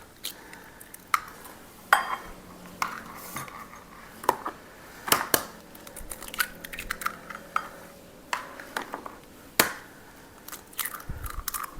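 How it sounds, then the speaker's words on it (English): Six eggs are cracked into a bowl, a series of sharp taps and crunchy shell breaks with clinks against the bowl, irregularly spaced and close up, with no talking. "we're going to crack 6 eggs into a bowl"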